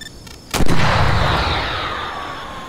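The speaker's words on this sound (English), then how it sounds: "There goes the missile." A missile launches in the video game Arma 3 with a sudden loud blast, followed by a long roaring whoosh that slowly fades as it flies away.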